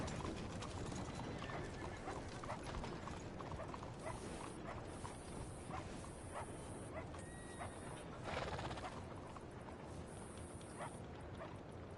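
Horse hooves galloping in the video game Red Dead Redemption 2, a quick continuous clip-clop rhythm over a busy mix of game sounds and faint tonal effects.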